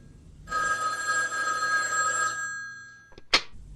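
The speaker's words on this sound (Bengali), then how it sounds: "ক্রিং করে ফোনটা বেজে উঠল" An old telephone bell rings once in a long, bright metallic trill lasting about two seconds, close and clear, then fades, followed by a short clatter.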